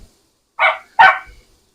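A puppy barking from her pen in a kitchen while an Irish coddle stew of sausage, potato, onion and bacon is cooked, giving two quick, sharp, close barks in otherwise quiet surroundings.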